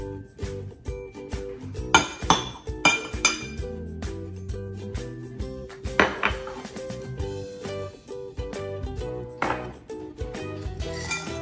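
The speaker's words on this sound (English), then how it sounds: "Mix all your ingredients with a spoon." Spoon stirring snack ingredients such as chopped apricot and figs in a bowl, with repeated clinks and scraping knocks in an irregular rhythm, close and fairly loud, no talking.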